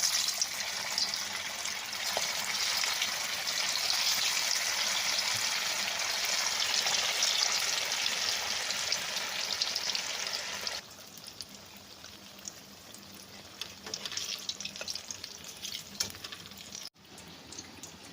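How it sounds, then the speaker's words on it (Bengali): Sago pakoras drop one by one into hot oil and fry with a loud, dense crackling sizzle that holds steady, then falls noticeably quieter partway through. "এবার দেখো তেলটা গরম হয়ে গেছে, এই গরম তেলে একটা একটা করে ছেড়ে দেবো"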